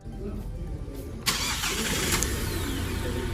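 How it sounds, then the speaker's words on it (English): A Hyundai Alcazar 1.5 CRDi diesel SUV started by remote key from outside the car: a brief starter crank and then the engine catching and settling into a steady idle, heard near and alone. "you can start the car from the exterior itself"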